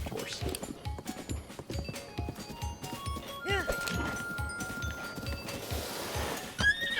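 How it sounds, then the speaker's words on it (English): In Zelda: Breath of the Wild, a horse's hooves clip-clop in a steady galloping rhythm while the horse lets out a neigh partway through, under faint background game sound. "Alright, you stupid horse."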